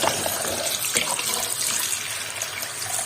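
Tap water runs steadily into a sink while small fish are rinsed for pickling, a close, continuous splashing gush with no talk.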